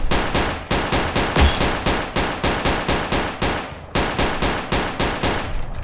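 An STG-44 rifle fires on semi-auto in the Roblox game Unit 1968: a long, steady run of loud, evenly spaced single shots, about four per second, with one short pause midway and no talking.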